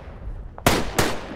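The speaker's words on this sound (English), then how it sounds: "Oh, somebody's shooting at me." Two sharp gunshots crack out in the video game Tannenberg, the first close and loud, the second just after it, with no talk.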